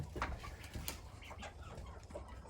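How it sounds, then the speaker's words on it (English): Five brown hens in a chicken coop cluck and murmur in soft, irregular bursts, faint and close amid low background noise. "So there's 5 brown hens in here."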